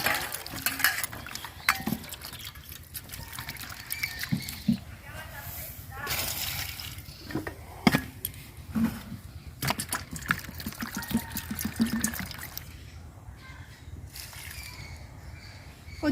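Taro root (maan kochu) being washed by hand under running water, with trickling and splashing broken by clinks against a vessel and handling noises.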